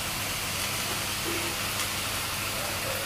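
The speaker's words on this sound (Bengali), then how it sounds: "এবার টমেটো দেওয়া হবে এর মধ্যে" Tomatoes tipped into a hot pan of spicy scrambled Bombay duck (bombil fish), giving a steady, close sizzling hiss with faint rustling throughout.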